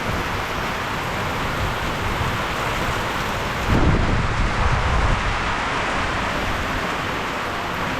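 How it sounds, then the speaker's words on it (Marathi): Heavy unseasonal rain with hail pours steadily outdoors as a deep roll of thunder swells midway and fades back into the dense hiss of the downpour. "गडगडायला सुरुवात झाली."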